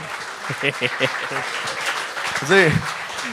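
An audience applauds in a comedy talk show studio, with broad, steady clapping running under speaking voices throughout.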